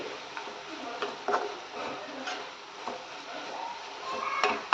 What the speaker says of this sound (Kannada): ಇದು ನೀಟಾಗಿ ಒಂದು ಸಲ ಮಿಕ್ಸ್ ಮಾಡ್ಕೊಳ್ಳಿ